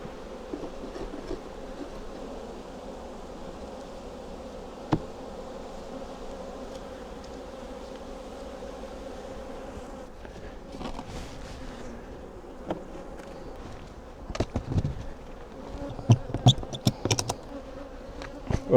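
A steady, close honeybee drone fills the air at an open hive during queen cell removal, with occasional handling knocks and clicks near the end.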